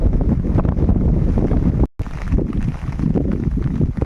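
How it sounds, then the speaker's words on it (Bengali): Steady wind roars through trees in the Sundarbans and buffets the microphone throughout, a loud broadband rush with a brief dropout midway. "হাওয়া হচ্ছে বাইরে শুধু গাছগুলো দেখলেই বোঝা যাবে যে একটু হাওয়া হচ্ছে"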